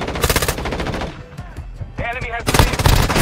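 Rapid close gunfire bursts in the mobile game Warzone, a loud rattling volley, a brief lull with a faint tone, then another heavy burst of shots.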